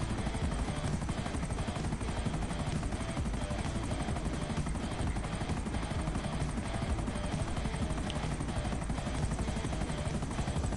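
A helicopter flies in GTA 5 Online, its loud rotor thrum and engine whine holding steady and close throughout with no speech.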